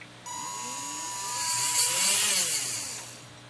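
A radio-controlled model's motor runs on throttle trim, a steady high whine that swells and sweeps in pitch before winding down as it shuts off, alone with no talking.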